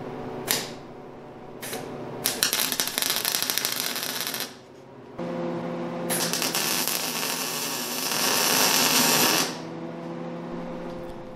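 Tack welding a bracket onto gantry tubing, with loud bursts of crackling arc noise separated by short pauses and a steady background hum, close by and without talk.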